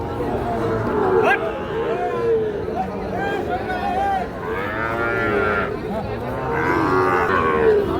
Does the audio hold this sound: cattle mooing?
yes